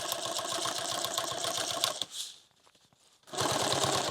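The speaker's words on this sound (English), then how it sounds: "I'm just going to sew right along this zipper here." A sewing machine stitches along a zipper on a medical backpack, running in a loud, steady rapid whir for about two seconds, pausing briefly, then starting up again close by.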